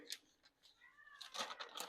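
A kitten gives a soft, faint meow, a short rising-falling cry heard close but quiet in a kitchen, with a few light clicks and handling noises around it.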